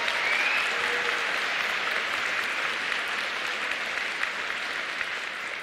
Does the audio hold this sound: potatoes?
no